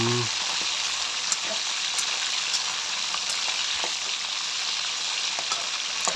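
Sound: pork frying in oil until crispy

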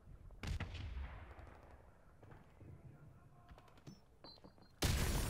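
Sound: grenade explosion in video game Modern Warfare Remastered

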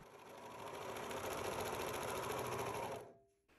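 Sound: serger sewing a string onto a fabric bonnet opening

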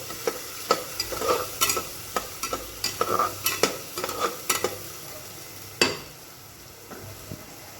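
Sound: sautéing spices: red chili powder, black chili powder, garam masala

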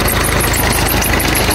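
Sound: tubewell pump engine running

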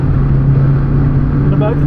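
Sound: Volkswagen Golf 3 accelerating on Zandvoort circuit

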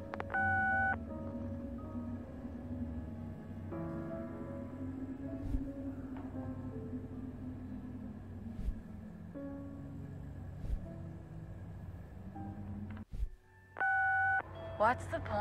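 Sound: phone call tone going unanswered, from a video game

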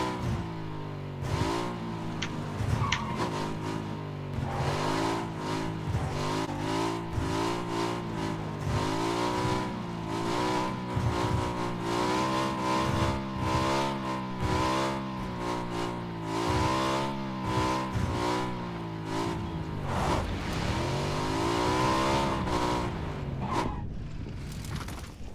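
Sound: car engine while driving in PUBG video game

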